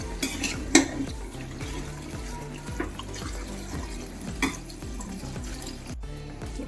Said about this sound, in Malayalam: കുറച്ച് പച്ചവെള്ളം കൂടി ചേർത്ത് കഴുകി വയ്ക്കാം